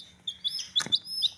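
Small chicks give several high, thin peeping chirps in quick succession while drinking, close and clear over a quiet background.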